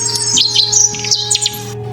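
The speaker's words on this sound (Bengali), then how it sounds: "কারণ তার কানে কিছু পাখির কিচিরমিচিরের শব্দ আসে।" Several small birds chirp and twitter in quick, overlapping bursts in a forest, with a steady tonal hum running underneath.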